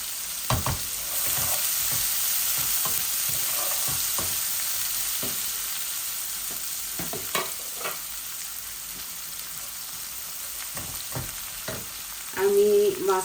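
Garlic and a medium onion fry in oil in a pan for Bengali-style hilsa fish curry, with a steady soft sizzle. Occasional stirring clicks sound above it, and a louder burst of frying rises near the end.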